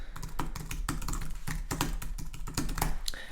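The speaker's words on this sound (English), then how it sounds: "Let's just type in a name here and then put in a quick email" Typing on a computer keyboard, a close, rapid, uneven patter of key clicks with short gaps, clear and alone.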